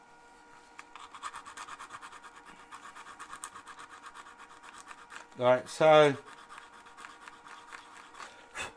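Sandpaper rubs back and forth over wood in short, quiet, rhythmic rasping strokes, close by, with a brief spoken remark partway through.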